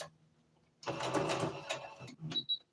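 A sewing machine back stitching a seam on a twist turban hat, a short loud mechanical whirring run with a brief pause and a few quick stitches after, close up and without talk.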